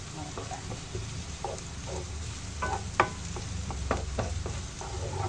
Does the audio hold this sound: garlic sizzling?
yes